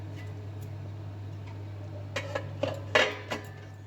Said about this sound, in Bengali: একটা ঢাকা দিয়ে আমি রাখবো